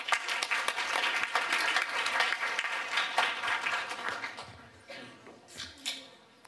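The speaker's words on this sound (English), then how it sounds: "So again, another round of applause, please." An audience applauds at a 2017 health and data forum session, with a dense, sustained wash of clapping that thins toward the end into a few scattered claps.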